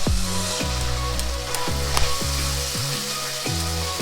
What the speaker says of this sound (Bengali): খুব ভালো করে মশলাটা আমি কষিয়ে নেব।